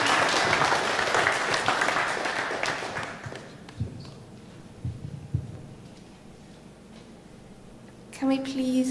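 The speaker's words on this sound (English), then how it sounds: "A round of applause for Ryan" Audience applause at an artist-run arts summit, loud and dense for the first three seconds, then thinning into scattered claps and room noise, with a brief voice-like tone near the end.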